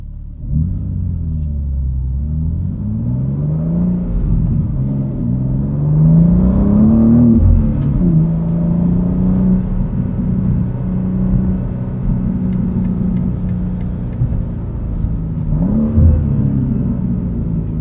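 A 2025 BMW M2 with a 6-speed manual drones and rumbles from inside the cabin while driving, its engine note rising and falling with throttle and gear changes, loud and continuous without talk.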